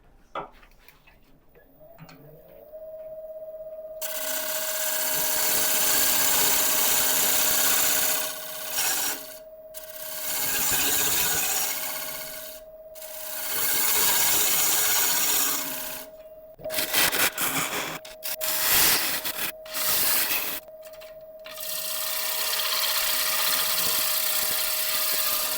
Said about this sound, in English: to help me get a nice clean cut on this rim, I'm just going to quickly cut in there with a carbide